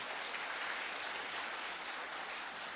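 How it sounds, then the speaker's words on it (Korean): A Korean church congregation claps to welcome visitors during a Sunday service in New Jersey, a steady, hiss-like wash of applause heard from a distance, fairly faint and unbroken. "우리 잠깐 일어서 주시면 박수로 환영하시겠습니다"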